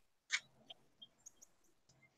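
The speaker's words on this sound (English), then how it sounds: "There's birds around here." Scattered bird chirps and short tweets outdoors, mostly faint with one sharper call near the start, against quiet background.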